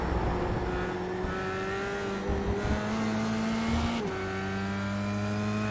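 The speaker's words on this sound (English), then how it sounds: "look at that car float through there, mate. That was sliding." A Formula 3 car in iRacing at Circuit of the Americas slides through a corner, its engine droning steadily with a pitch drop and rise as it shifts, loud and close, with no talk.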